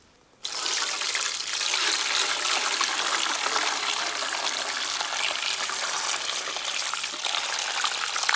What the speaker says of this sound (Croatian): a vodu ću procijeti u drugi kotlić